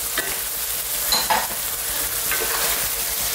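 Canned plum tomatoes go into a zucchini stew, a loud, close sizzle mixed with a few brief stirring scrapes over a short stretch.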